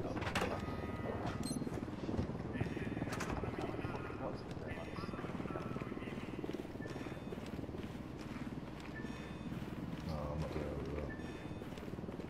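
A helicopter in the video game Ghost Recon Wildlands drones steadily through the clip, mixed with busy game sounds such as hooves and gunfire, while a player talks over it.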